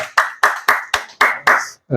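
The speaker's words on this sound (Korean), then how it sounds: "우리 하나님께 감사와 영광의 박수 올려드리겠습니다" Seven sharp, evenly spaced claps ring out in a church after a Sunday worship service, each a crisp single hit in steady rhythm, close and clear, with no talking.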